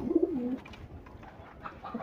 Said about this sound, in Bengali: এই হচ্ছে আমার একটা টেডি কবুতর